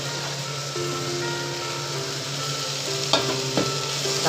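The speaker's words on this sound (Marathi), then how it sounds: "आता खोबरं पण चांगला व्यवस्थित परतून घेऊ" Grated coconut roasting in a pan with masala for Malvani-style sprouted horse gram curry, a steady close sizzle broken by a few sharp scrapes of a spatula stirring it, with no talking.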